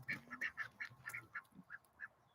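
A group of farm ducks quacks faintly in a steady, repeated series of short calls at a distance near a poultry coop, with no talking.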